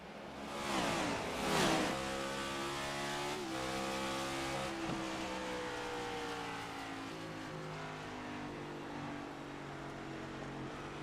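A field of NASCAR Cup race cars in a video game starts at New Hampshire with loud engines revving up together, rising pitches sweeping and overlapping before settling into a steady, layered roar.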